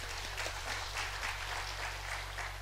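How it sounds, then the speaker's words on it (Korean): A church congregation claps for the synthesizer keyboard player at a Sunday afternoon service, a broad patter of many hands filling the room at even loudness throughout. "박수 한번 보내겠어요."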